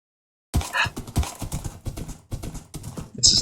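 Horse hooves clopping in the video game Minecraft, a steady run of crisp close hoof clops in an uneven rhythm that starts after half a second of silence, with a short whinny-like sound near the end.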